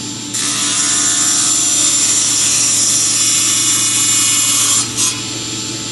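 A power saw cuts through a panel with a loud, steady whine and rasp that runs continuously for several seconds, then briefly dips near the end, heard alone without speech.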